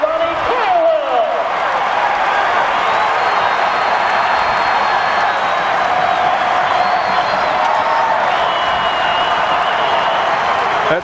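A college basketball arena crowd at a Bradley versus ISU game roars and cheers loudly after a dunk, a sustained wall of noise with scattered clapping and some voices mixed in.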